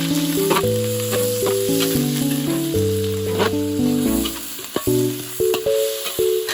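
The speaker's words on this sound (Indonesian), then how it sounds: "Setelah minyak panas lanjut kita tumis bumbu sampai harum seperti ini." Spice paste sautéing in hot oil gives a steady, hissing sizzle that runs throughout, partly buried under loud background music with sustained tones.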